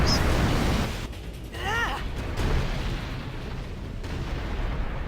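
Heavy rumbling blasts and booming bursts of explosions in the video game Final Fantasy X HD fill the scene, dense and noisy, with a brief chirping tone rising above the chaos.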